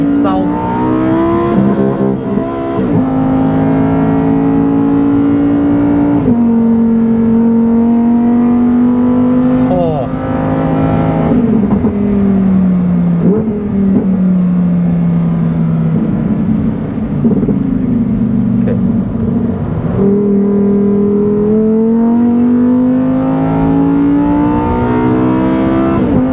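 A Lamborghini Huracan Tecnica's naturally aspirated 5.2-litre V10 revs hard on the Sepang circuit, loud and close, its pitch climbing and dropping through repeated throttle pulls and gear changes, with a steady roar throughout.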